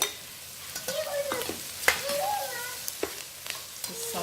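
Cooked Italian sausage and vegetables sautéing in a soup pot for keto sausage kale soup, a low steady sizzle punctuated by stirring clinks and scrapes, with a child's and an adult's voices chattering over it.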